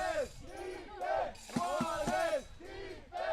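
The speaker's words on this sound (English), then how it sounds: "And the chants from the crowd pick up a little bit." Spectators at a baseball game between Heidenheim and München-Haar chant together in a rhythmic, repeated call, loud and close, with sharp claps or thumps punctuating the middle.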